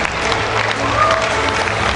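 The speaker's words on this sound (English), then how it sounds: "A standing ovation, continuous applause" A standing crowd at an awards gala applauds continuously, a dense wash of clapping with no breaks, filling the room.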